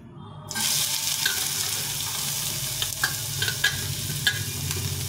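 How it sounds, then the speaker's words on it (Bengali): Onion and garlic hit hot oil in a nonstick pan and burst into a loud, steady sizzle after a brief silence, with light clicks and taps of stirring scattered over the crackling. "পেঁয়াজ রসুনটা ভেজে নেব।"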